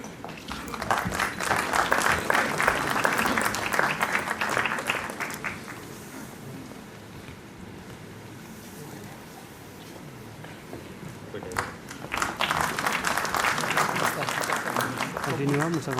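An audience at a university regional convocation in Srinagar bursts into loud, sustained applause, which fades to a softer patter midway before swelling again into a second strong round of clapping.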